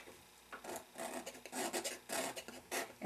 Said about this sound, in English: when in doubt, scrape it out. Grab a palette knife,